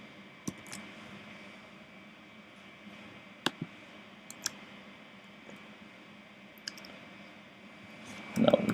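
Typing into a text input on a web form, sparse isolated keyboard clicks spaced seconds apart over a quiet background, with a louder rustle at the very end.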